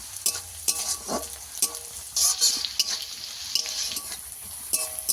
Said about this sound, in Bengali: সেদ্ধ করা রসুন দিয়ে ভালো করে ভেজে নেব